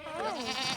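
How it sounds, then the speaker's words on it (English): Goats bleating on a Texas ranch, a single close, wavering bleat lasting under a second, heard alone. "Okay, goats."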